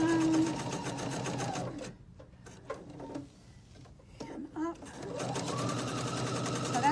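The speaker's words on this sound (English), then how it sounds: "So we're going to just sew this down." A sewing machine stitches fabric for a reading pillow: a steady, close mechanical whir runs for about two seconds, pauses through a quieter stretch, then starts up again and runs steadily to the end.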